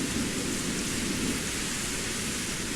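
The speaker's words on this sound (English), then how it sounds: "The wind roars as fierce rain pours down." Steady, dense rain hisses without letup in the game The Innocent LunA: Eclipsed SinnerS, a broad wash of noise with a low rumbling undertone of gusting wind.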